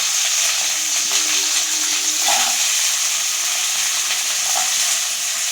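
Garlic sizzles loudly and steadily in hot oil, with a couple of soft stirring sounds along the way.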